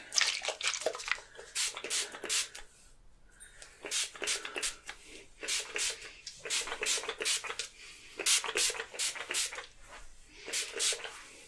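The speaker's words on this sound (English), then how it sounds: "we're going to add just a little" A spray bottle mists water onto freshly washed, damp hair during a home haircut, with quick bursts of close, hissing spritzes coming in rapid clusters and short pauses between.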